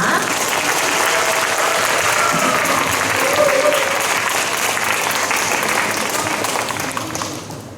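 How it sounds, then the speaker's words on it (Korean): Loud, sustained applause with cheering from a large audience of teachers at a keynote lecture during a union education conference, a dense steady roar filling the whole stretch and tapering slightly at the end. "큰 박수 함성 부탁드리겠습니다"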